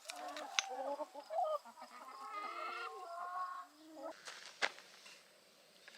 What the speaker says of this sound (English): Got Lainey checking out the chickens.